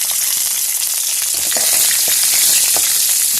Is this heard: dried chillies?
yes